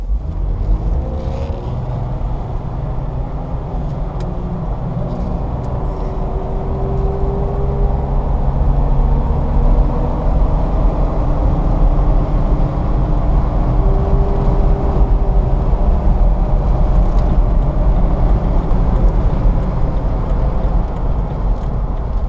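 A lifted 2006 Jeep Wrangler Unlimited LJ with extended wheelbase cruises on a test drive, steady engine drone and tire-road roar heard from inside the cab, loud and continuous with mild shifts in pitch as it accelerates.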